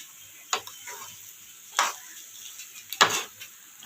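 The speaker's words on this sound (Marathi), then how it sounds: "तर आपण आता भाजी मिक्स करून घेऊया आणि आपण कोथिंबीर टाकूया." Potato bhaji curry being stirred with coriander in a pan, giving three brief scraping stirs spaced a second or so apart over a faint background hiss.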